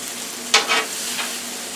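Onions and hash browns frying on a grill, a spatula scraping and stirring in a few quick bursts over a soft steady sizzle.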